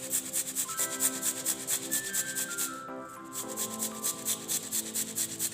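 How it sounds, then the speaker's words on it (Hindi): Halved tomatoes are crushed by hand for a face pack, producing a rhythmic, repeated wet rubbing and squishing over soft background music. "मैंने कट कर लिए 2 हिस्सों में टमाटर को, ठीक है। इसको मैं अच्छी तरह से क्रश करूँगी।"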